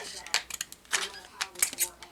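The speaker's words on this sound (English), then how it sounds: "We're going to work up to it with a hefty pair of scissors because this is fairly" Hefty scissors cutting thick, clear vacuum-formed plastic, heard as a series of crisp snips and crunchy clicks, close by, with a voice talking over them.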